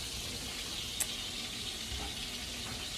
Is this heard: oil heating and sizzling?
yes